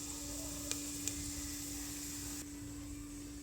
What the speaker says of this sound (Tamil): இதில் சோம்பு போட்டுக்குவோம். கொஞ்சோண்டு சோம்பு பொரியட்டும்.